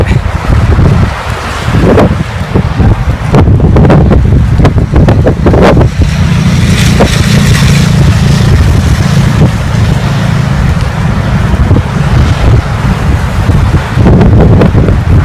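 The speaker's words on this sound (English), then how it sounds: "It's windy out here" Loud wind buffets the microphone outdoors near Seal Rock in San Francisco, a constant roaring rumble with gusty surges, and a voice talks intermittently underneath.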